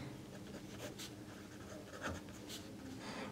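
A pen scratches out an equation for a class 10 lesson on linear equations in two variables, with faint, soft strokes in short bursts against a quiet room.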